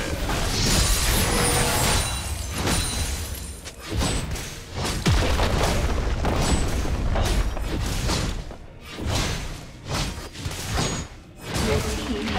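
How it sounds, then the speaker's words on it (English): Turret destroyed in a League of Legends ranked match, Trydamere playing Smite top against Urgot: loud repeated booming crashes and thuds in dense bursts, mixed with game effects and an announcer-style voice. "Your team has destroyed a turret."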